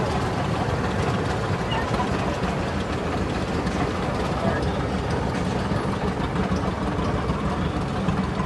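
A 1948 John Deere AO orchard tractor engine runs steadily at a parade, a continuous low rumble that holds level throughout, with crowd and announcer talk mixed in.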